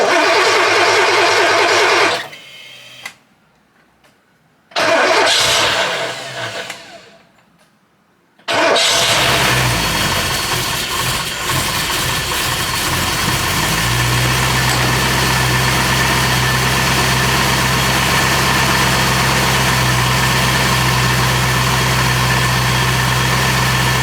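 A Porsche 928 engine cranks in two bursts, catches on the third try and settles into a steady, loud idle with a low, even hum, close by in a workshop.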